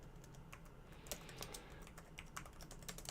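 Typing on a premium custom keyboard from Vermilo gives a quiet, steady run of crisp key clicks and soft thocks at an irregular pace, heard close up with no talking.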